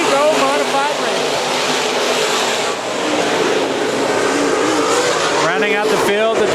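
IMCA modified race cars at Perris Auto Speedway, a loud continuous engine roar of a field of cars circling the track, with an announcer talking over it.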